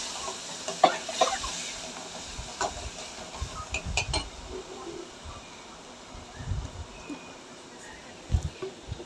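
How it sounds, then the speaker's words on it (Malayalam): A pan of chole masala boils with added water, giving a soft steady hiss and bubble punctuated by occasional sharp clinks and scrapes of stirring. "കുറച്ച് വെള്ളം ഒഴിച്ചിട്ട് നന്നായി തിളപ്പിക്കാം"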